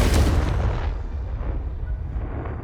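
Confringo fire blast spell in Hogwarts Legacy: a single loud, close explosive boom that hits at once, then fades into a rumbling, crackling tail.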